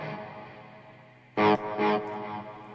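An electric guitar plays two sharp struck chords over a lingering tone, with echoing delay and reverb trailing off afterward.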